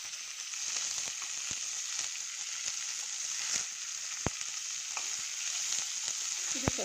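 Onion and seeded, chopped snake gourd fry in a pan with a steady, even sizzle throughout, broken by faint scattered pops and light stirring clicks, with no talking.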